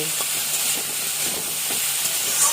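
Spices, including ground cumin, are stirred in a hot frying pan: a steady oily sizzle and hiss with soft, irregular scraping strokes of the spoon beneath, close and moderately loud, no voices.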